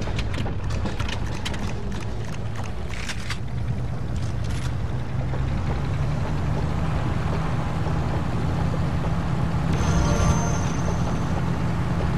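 Boat motor in the Resistance 3 video game, running steadily on the Mississippi River: a loud, continuous low engine drone with rushing water and wind noise. No one speaks.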